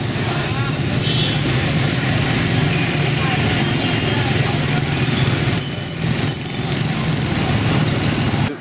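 Busy motorbike traffic in the old quarter of Hanoi, Vietnam, with engines droning and a constant roar of passing vehicles, plus a couple of short high-pitched squeals partway through.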